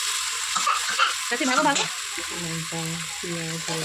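Spices, dried chili, onion, ginger and garlic frying in oil for khichuri, a steady close sizzle running throughout with a voice speaking briefly over the first part.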